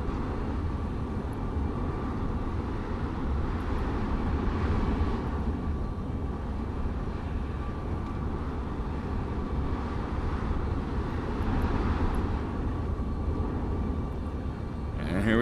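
Airplane engine in a flight simulator game, a broad steady roar that rises and swells during takeoff, heard at moderate loudness with a voice speaking now and then over it.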